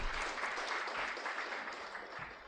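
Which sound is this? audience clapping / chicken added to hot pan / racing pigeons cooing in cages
audience clapping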